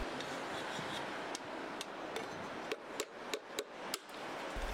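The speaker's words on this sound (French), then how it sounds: "Un premier trou avec la pointe du marteau." A roofer's slate hammer taps a first hole into a custom-cut roof slate with its point, a series of sharp, close clicks and knocks, about eight strikes in quick succession, heard against a steady background hiss on a Parisian dome.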